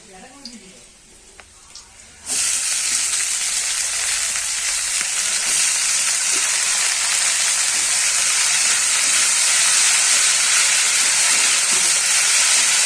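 Water spinach dropped onto browned fried onions in a hot pan erupts into a loud, steady sizzle that holds continuously after a quieter start, with someone speaking over it.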